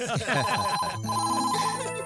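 A telephone rings indoors with a steady electronic trill, sounding alongside dramatic background music and some voice activity, loud and continuous over about two seconds.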